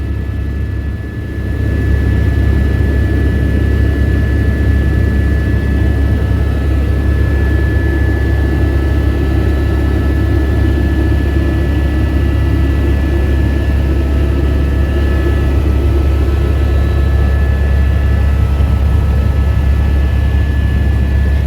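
A loud, steady helicopter engine drones throughout on a flight near Everest in Nepal, a constant low roar with a faint high whine, heard from inside the cabin without talking.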